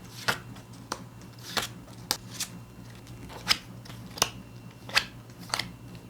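Tarot cards are shuffled and drawn in a crisp, snapping rhythm: about a dozen sharp riffles and slaps spaced roughly half a second apart, close and clear over a faint, steady hum.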